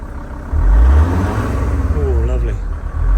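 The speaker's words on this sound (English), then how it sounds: "Nice smooth idle." A diesel engine in a VW Transporter T4 just after new PP1 injectors were fitted, starting up and settling into a low, steady idle rumble close by, with someone talking over it.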